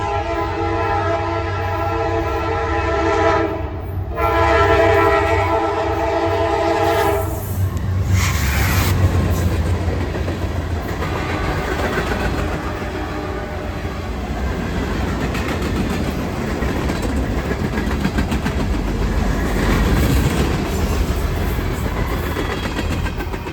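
A Norfolk Southern freight train led by a Dash 9 locomotive passes close by. It opens with a loud, sustained multi-tone horn blast and a brief break, then the heavy rumble and rolling clatter of the cars continue.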